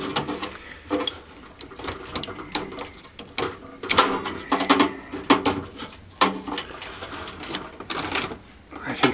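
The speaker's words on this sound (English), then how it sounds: "Now, screwdriver. give the windings a bit of a scrape." A screwdriver scrapes the aluminium windings of a scrapped microwave oven transformer in short, irregular bursts of dry metallic rasping, close up, with a voice talking over it.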